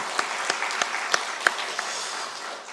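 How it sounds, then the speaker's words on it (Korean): A church congregation claps together in a Sunday family service, a steady, even round of applause with a few sharper single claps standing out, fading slightly toward the end. "다시 한번 우리 하나님께 영광 박수 올려드리겠습니다"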